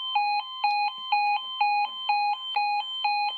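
Electronic two-tone alarm at a Wells Road level crossing alternating rapidly in a steady repeating pattern, clear and fairly close, with faint background noises.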